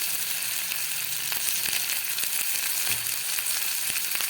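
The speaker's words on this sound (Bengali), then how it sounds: "টমেটোটা ভাজা হয়ে এসছে কিছুটা" Tomatoes fry in a pan for an egg curry, giving a continuous, close hiss of sizzling oil with a few soft clicks of stirring.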